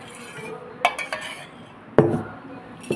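Spoon clinks against a glass or jug while nungu (palm fruit) sarbath is stirred, with a few sharp taps near 0.8 s and 2 s over soft background clatter, no talking.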